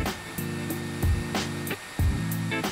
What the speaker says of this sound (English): use the hairdryer at the bottom